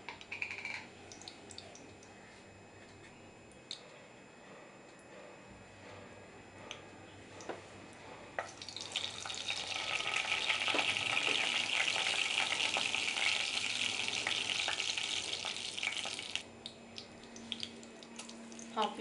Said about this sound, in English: Now garlic is hot now. We'll add this mustard seed.